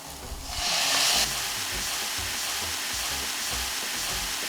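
Scotch bonnet peppers and chopped tomatoes frying in a pan, a loud sizzling hiss that swells in the first second and then settles into a steady close sizzle with soft stirring scrapes and knocks.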